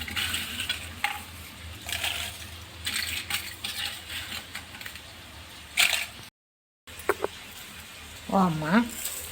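Fish fries in a pan, producing a steady hiss of sizzling oil broken by a few clinks of utensils, with a voice heard briefly near the end.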